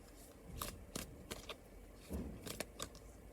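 Quiet, crisp riffles and slaps of tarot cards being shuffled, several short bursts spaced irregularly, close by with no talking.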